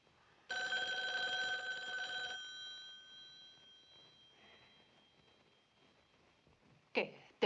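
An old telephone bell ringing loudly in one long burst, then the sound fades out slowly, followed by a brief clatter near the end as if the receiver is picked up.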